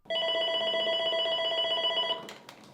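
A telephone bell rings steadily and loudly for about two seconds in an office of the Marianites of Holy Cross religious sisters, then cuts off, followed by a couple of faint clicks.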